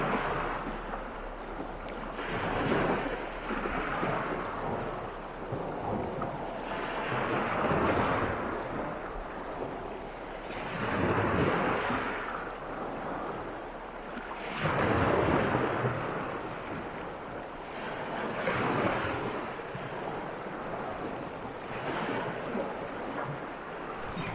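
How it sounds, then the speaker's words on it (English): A small creek runs across a Lake Superior beach, a steady wash of flowing water that swells and eases in waves, with some wind noise on the microphone and no voices. "a cool little creek that I found flowing through the beach"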